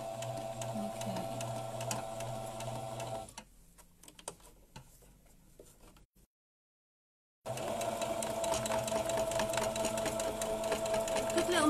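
An old home sewing machine stitching face mask fabric, whirring steadily and close, then slowing into scattered clicks, falling silent for a moment, and resuming at full speed.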